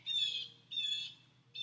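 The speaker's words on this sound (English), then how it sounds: "is that a blue jay squawking?" A blue jay calls three times from near a back deck outdoors, each harsh, raspy squawk lasting under half a second, faint and evenly spaced.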